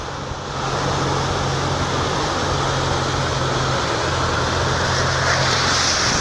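A loud continuous rush of churning water and engine rumble as a truck pushes through deep floodwater on a Manly street, steady for several seconds.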